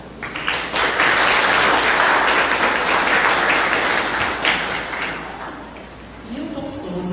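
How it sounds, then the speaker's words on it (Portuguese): A hall audience at a Spiritist talk gives loud, dense applause to welcome a physician and historian to speak, swelling quickly, then thinning out as a voice begins near the end. "o médico e historiador Newton Souza, que recebe agora os nossos aplausos."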